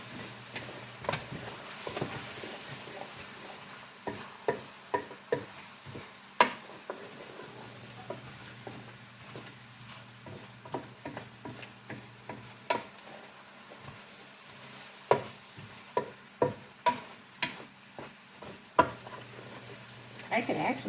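A spoon repeatedly scraping and knocking in a deep pan as zucchini soup ingredients are stirred, with rhythmic clacks over a faint sizzle.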